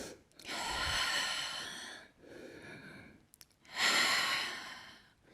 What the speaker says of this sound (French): J'expire, je me détends.